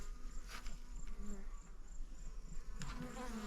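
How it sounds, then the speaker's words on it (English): Honeybees buzz around a farm hive outdoors, a steady faint hum with occasional brief louder passes as bees fly close to the listener. "We just need to check on our bees."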